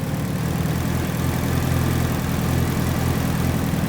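A Mitsubishi Evo's engine idles steadily with a low, even rumble, close and alone throughout, on a car with a fuel leak and low fuel pressure.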